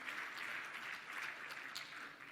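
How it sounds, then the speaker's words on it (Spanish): A church congregation claps in a continuous, fairly faint patter of applause, with no breaks or speech. "¿Por qué no le damos un fuerte aplauso al Señor?"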